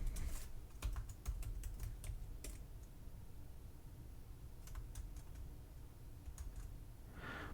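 Password typed on a computer keyboard: a quick burst of crisp, close key clicks, then a pause, a few more taps, and a faint rustle at the end.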